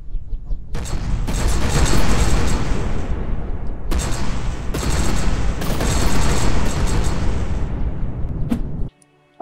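Rapid, dense bursts of booming cannon fire in the video game From the Depths roll on for several seconds, loud and continuous with brief gaps, then cut off abruptly.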